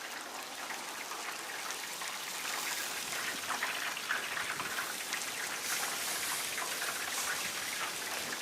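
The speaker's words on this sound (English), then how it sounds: "Now you're just going to go ahead and add the rest of your milk in there." Milk poured into a roux in a cooking pot, a steady soft splashing and trickling that stays even and fairly quiet throughout.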